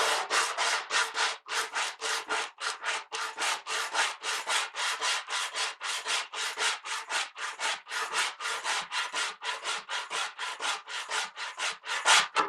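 Sandpaper rubs across a wooden mandolin back at a 45-degree angle, a steady run of brisk, evenly spaced back-and-forth strokes, close and fairly loud with no talk.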